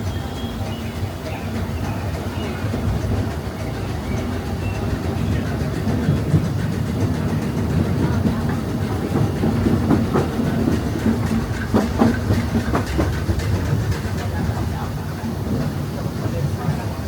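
A Disneyland Railroad train runs along its track with a steady, close rumble and rhythmic clickety-clack of the wheels that continues throughout, with faint voices in the background.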